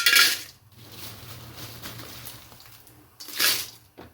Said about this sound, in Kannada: ಈಗ ಹಾಕ್ಕೊಳ್ಳೋಣ ಮೆಣಸಿನ್ಕಾಯಿ